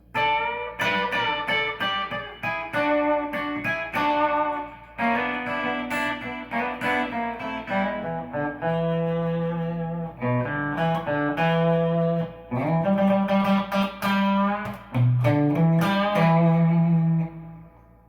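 An electric guitar with effects plays the opening solo of a song from a live performance, clear sustained notes and bends in distinct phrases, solo with no talk.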